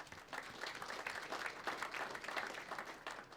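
Steady applause from an audience at a Lithuanian sports journalists' federation awards ceremony, dense clapping throughout at an even, moderately loud level with no talking over it.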